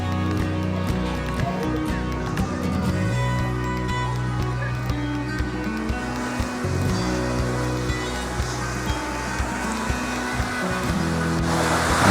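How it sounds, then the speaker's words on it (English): A steady, broad rush of falling water from a waterfall at Anakeesta in Gatlinburg, Tennessee roars continuously, loud and constant, with a low hum underneath. "Beautiful waterfall here."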